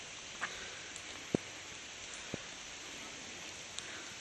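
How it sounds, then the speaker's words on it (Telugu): Heavy rain at Buddhavanam in Sagar makes a steady, even hiss, broken by a few faint drip clicks, with no voices. "వర్షం అయితే ఎక్కువైంది ఫ్రెండ్స్."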